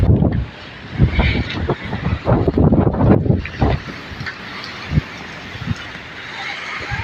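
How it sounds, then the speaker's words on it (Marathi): Strong wind buffets the microphone outdoors in a village during bad weather, a loud rumbling roar with gusty bursts, while people talk nearby. "खूप हवा."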